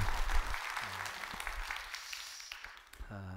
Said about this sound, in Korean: 애쓰셨는 여러분 박수 한번 해주셔요.